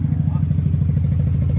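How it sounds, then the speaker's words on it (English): Mazda RX-7 rotary engine from a FB GSL-SE running with a blown-out cherry bomb muffler, a loud, steady, rough low rumble with an uneven pulsing throb throughout, close by. "Exhaust just blown out. It's one of them cherry bomb mufflers."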